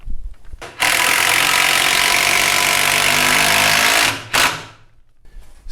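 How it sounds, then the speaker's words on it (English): A power driver sends a screw into a timber noggin in a stud wall, giving one sustained, loud, close whirring burst of about three seconds followed by a short second burst. "and then drive the screw in."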